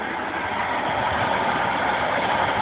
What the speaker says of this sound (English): figuring out why my Honeywell HEPA Air Filter is rattling